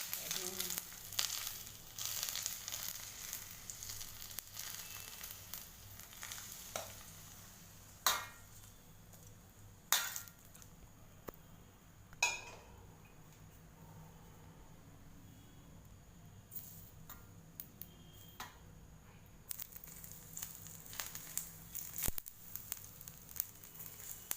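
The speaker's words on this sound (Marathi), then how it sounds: "असा आवाज आला पाहिजे लसणाचा" Garlic dropped into very hot oil for a sweet-and-sour pickle, with the gas turned low, sizzling in a faint, steady crackle broken by a few sharper pops and bursts.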